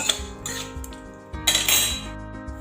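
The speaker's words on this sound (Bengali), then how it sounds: "বাদামটাকেও খুব ভালো করে ভেজে নেব" A spatula scrapes and stirs peanuts and mung dal through a frying pan in repeated bursts, with a steady sizzle of oil underneath and no voices.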